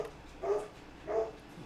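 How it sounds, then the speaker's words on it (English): A male dog barking indoors at home, two muffled, moderately loud barks spaced under a second apart against quiet room background. "sorry about that, my dog's going a little bit crazy."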